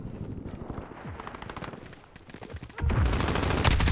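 Gunfire from the video game Call of Duty: Modern Warfare, scattered shots and bursts rattle at moderate distance before a loud, continuous rapid-fire volley takes over near the end.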